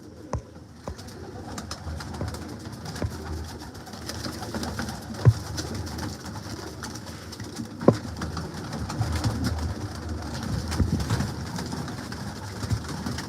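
Pigeons of Ustad Dilawar Khan's breeds coo steadily in a loft, soft low rolling calls overlapping throughout, with occasional sharp knocks and wing flutters cutting through.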